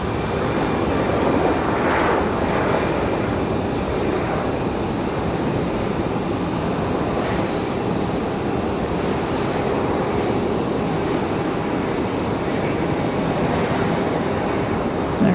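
ATR turboprop aircraft of Mountain Air Cargo, a FedEx feeder from Wilmington, landing on runway 23 left at Raleigh-Durham, a steady loud engine roar with wind and no talk.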